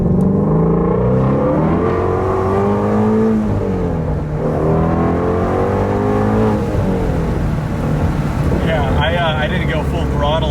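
A 2019 or 2017 Ford Shelby GT350 pulls forward at about 20% throttle, its engine note holding a steady, rising drone throughout, with road and wind noise close in the cabin.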